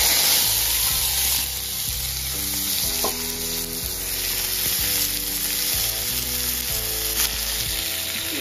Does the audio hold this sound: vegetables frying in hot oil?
yes